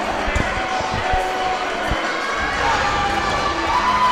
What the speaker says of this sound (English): This crowd's insane right now.